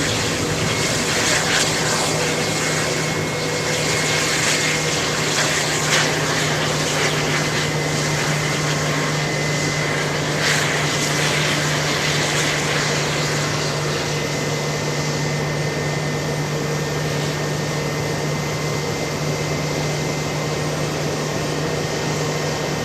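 A JetBlue airliner pushing back at JFK airport in summer heat, a steady broadband hum of engines and ground equipment with a constant low tone, distant and continuous, no talking.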